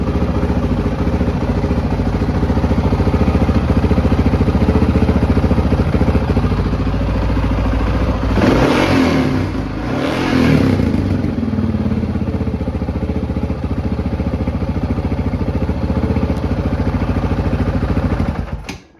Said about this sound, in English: So revving it up